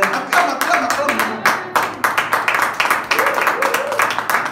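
A church congregation claps and cheers in acclamation during a sermon, with rhythmic bursts of clapping mixed with shouting voices, close and lively.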